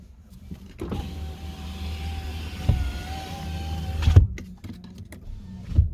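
A car's electric power window runs up with a steady whining motor hum for about three seconds, ending in a firm thunk as it seals shut, followed by soft clicks from inside the cabin.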